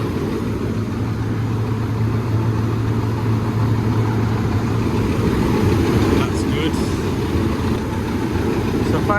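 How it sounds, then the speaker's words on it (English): Engine of a 24-volt 380 machine with a leaking hydraulic pump, running as a steady, loud, continuous rumble with a low droning hum, heard up close while someone talks over it. "This one now should be our 24 volt feed, so the engine's running."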